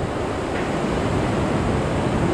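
The Marsyangdi river flowing below a hillside trail near Besishahar, a constant broadband rushing roar heard from a distance, steady and unbroken with no voices.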